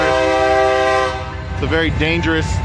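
A train rolls by on nearby railroad tracks with a loud sustained horn blast that dips and then sounds again in shorter toots, with rumbling wheels underneath and a voice speaking over it.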